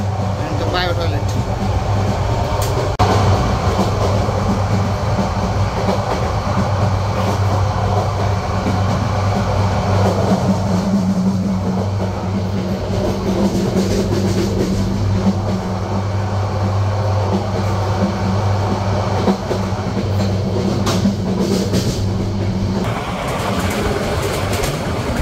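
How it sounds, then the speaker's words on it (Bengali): The Porjotok Express rumbles over the Matamuhuri river railway bridge with a steady, loud, low drone of wheels and carriage noise that continues without a break. A voice talks over it. "ট্রেনটি এখন পার করে যাচ্ছে মাতামুহুরী নদীর ওপর নির্মিত রেলওয়ে ব্রিজ।"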